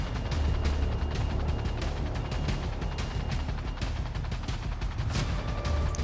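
Rapid gunfire rattles on an oil platform in a video game, dense repeated shots in quick bursts over a constant low rumble, moderately loud and sustained.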